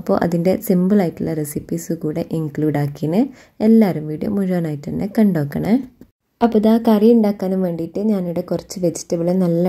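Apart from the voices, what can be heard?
No distinct noise like a dog, phone or traffic.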